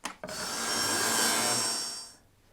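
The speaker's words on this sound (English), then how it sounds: "I'm just going to raise our blade now to 7mm and just take that cut again" Table saw with its blade raised to 7mm cutting a rebate in wood, a single loud, steady rasping cut lasting about two seconds, close up, with no talking.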